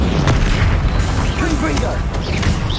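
A Bombarda explosion spell detonates in Hogwarts Legacy gameplay, a loud deep boom with rumbling debris filling the whole moment, mixed with shouted spell incantations and other game effects.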